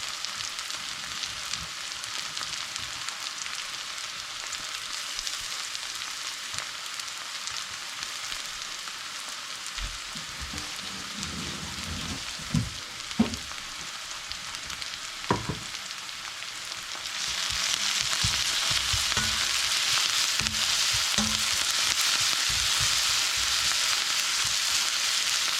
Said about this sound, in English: So you're gonna let this fry up a little bit, release all those aromas.